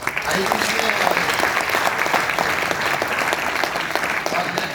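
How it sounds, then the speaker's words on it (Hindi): An audience claps together at a direct selling training and awareness event, a loud, dense, steady applause that runs the whole time, with some voices mixed in. "एक बार तालियां बजा सकते हैं।"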